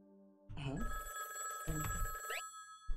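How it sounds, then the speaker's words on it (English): An old telephone rings with a high-pitched bell in the Higurashi When They Cry visual novel, two long trilling bursts of ringing, fairly clear over a quiet background. "we suddenly heard a high-pitched ringing sound. It's coming from the phone right beside me."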